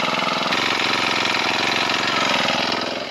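A Honda engine runs steadily at a constant idle, close and loud, with no talking over it.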